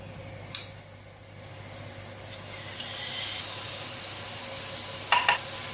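Pork belly frying in an oiled pan, a steady soft sizzle and hiss with a couple of sharp crackling pops near the start and end, close and fairly quiet.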